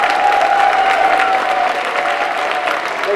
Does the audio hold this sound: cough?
no